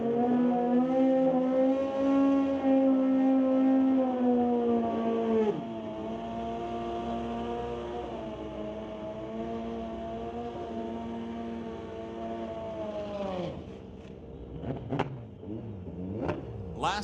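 Kawasaki drag-racing motorcycles at Mission Raceway Park hold a loud sustained engine drone, one steady revving tone that drops and settles before sharp blips and revs near the end.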